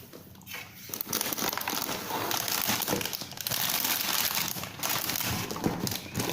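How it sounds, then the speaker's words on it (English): Plastic and cardboard packaging crinkles and rustles up close while a Lego EV3 Mindstorms robot kit is unboxed, in dense, continuous crackling bursts with brief pauses. "let's unbox it"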